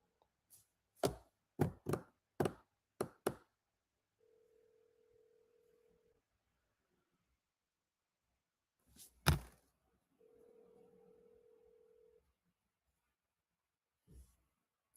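Ring tones of an outgoing phone call heard through the line: two long even buzzes with a quiet gap between them, following a quick series of sharp clicks and knocks.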